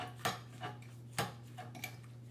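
Banana and Nutella wonton filling is mixed in a bowl, a few sharp utensil clinks against the dish over a faint steady hum, quiet and close.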